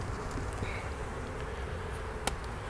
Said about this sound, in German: das sind die gesiebten Bienen.